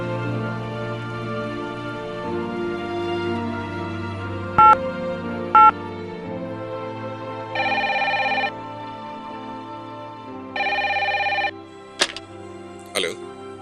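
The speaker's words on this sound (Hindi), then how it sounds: "मैं अभी एक अंकल को फोन करूंगा." A telephone rings while a call is being placed: short tonal bursts and two longer rings, loud and close, alternating with a low background hum and no talk over it.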